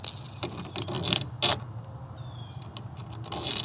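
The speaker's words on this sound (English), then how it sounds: "Another washer." A metal washer is handled and slipped onto a bolt while assembling a DIY kayak cart, producing close metallic clinks and a brief rattling jangle, then quiet.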